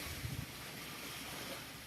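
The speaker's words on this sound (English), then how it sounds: "Listen to those waves." Ocean waves wash steadily in a broad, continuous rush along a shore in the Philippines, moderately loud with no voices heard.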